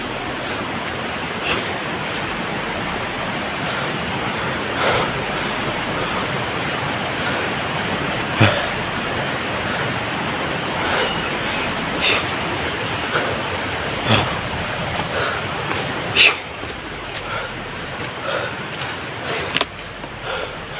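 A stream of flowing water rushes steadily and loudly outdoors, a constant broad wash of sound with a few faint clicks and knocks over it.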